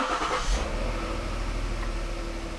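A Ford Flex 3.5 EcoBoost engine, warm after a valve cover gasket job, blips up in a quick rev near the start and then settles into a steady, close, low idle rumble with no talk.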